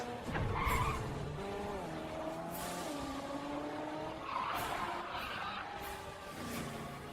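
A car tears away in a video game with tires squealing and skidding, a long wavering screech over a revving engine, loud and continuous with a second burst midway.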